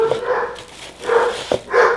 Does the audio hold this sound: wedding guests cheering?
no